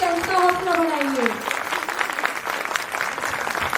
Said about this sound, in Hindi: अगर आपको ये परफॉर्मेंस पसंद आई तो एक बार जोरदार तालियों के साथ हमारे लिए फ्रेंड्स का हौसला बढ़ाइए।